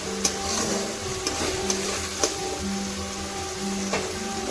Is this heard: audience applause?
no